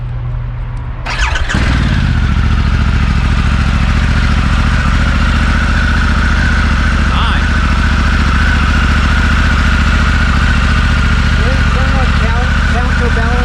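A 2021 Harley-Davidson Pan America motorcycle with a counterbalanced motor cranks and fires after a second. It then settles into a loud, close, steady idle that holds to the end.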